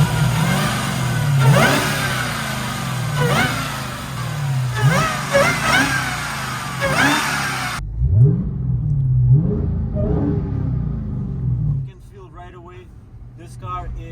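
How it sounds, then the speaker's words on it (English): A 2021 Dodge Charger Hellcat Widebody engine revs in repeated throttle blips, each rising and falling, loud and close, with a steadier rumble near the end and someone talking over it. "I'm gonna push the throttle a little bit so you see what this car's engine is all about"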